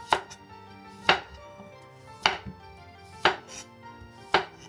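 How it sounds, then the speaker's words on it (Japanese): A knife chopping cucumber into irregular chunks on a board, five sharp, close thuds spaced roughly a second apart, with quiet pauses between cuts and no voices. "きゅうりは乱切りにします。"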